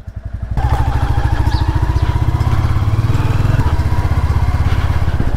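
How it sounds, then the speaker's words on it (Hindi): A motorcycle engine catches and settles into a loud, steady, close idle with a rapid regular thumping pulse that carries on throughout. "बाइक भी स्टार्ट कर दिया"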